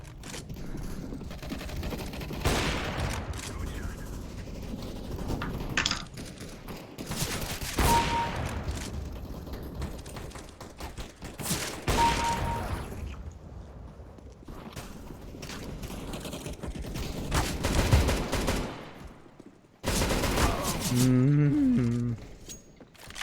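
Gunfire in the video game CS:GO, with bursts of shots and gameplay effects spread through the clip, loud and continuous, with a short tonal game sound near the end.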